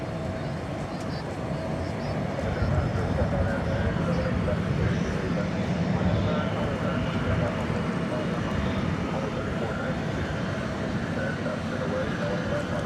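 A Boeing 777 lands at night, its engine roar and rumble rising and fading as a broadband wash while a voice talks over it.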